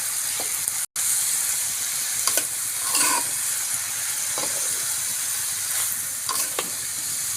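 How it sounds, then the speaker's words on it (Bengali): Sliced banana stem sizzles with turmeric in a hot pan, a continuous loud frying hiss with occasional stirring scrapes and bursts of spattering. A brief dropout interrupts the sizzle near the start. "আমি পরিমাণ মতো হলুদ দিয়ে দিব, দিয়ে থোড়টা সুন্দর করে ভাজা ভাজা করব।"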